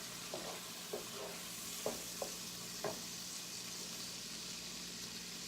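Hamburger casserole mixture sizzles and fries steadily in a pan, with a few scattered stirring scrapes and clinks of a utensil breaking through the continuous hiss.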